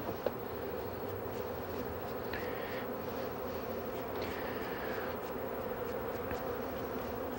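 Honey bees buzzing steadily at the back of a hive on an organic farm in Bangladesh, a dense, faint, continuous hum with occasional closer passes of single bees.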